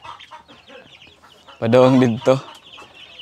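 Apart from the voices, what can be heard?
backyard chickens clucking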